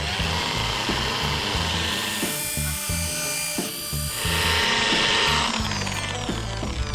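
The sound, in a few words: power polisher polishing van bodywork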